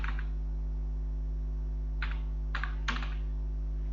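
Short bursts of computer keyboard typing during a Tally accounting lesson: a quick flurry near the start, then three brief clusters of key clicks about two seconds later, faint and close over a steady electrical hum.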